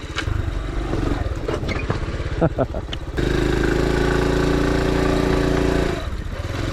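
A Honda CT farm trail motorbike runs on a dirt trail with a steady mid-pitched engine drone, holding a constant note for a few seconds after some rougher, uneven engine noise at the start.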